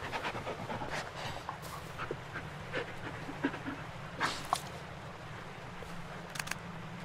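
A dog in the video game Blair Witch pants rapidly and close by, a soft rhythmic breathy huffing with occasional small whimpers over a low background drone.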